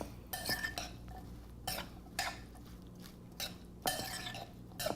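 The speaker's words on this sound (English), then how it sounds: "Let's give it a stir until it dissolves." A spoon stirs vitamin C powder into a nectarine jalapeño relish, giving several separate clinks and scrapes against the bowl at an uneven rhythm, quiet and close with no talk.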